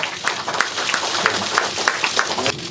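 A crowd bursts into warm applause at a political rally for Lee Jae-myung, dense overlapping claps filling the hall with a steady, lively texture and a few sharper individual claps standing out.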